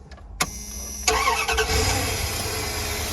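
The 5.2 Magnum engine of a 1997 Dodge Roadtrek 170 camper van cranks with a click and a brief whir, then catches and settles into a steady, close idle after a tune-up.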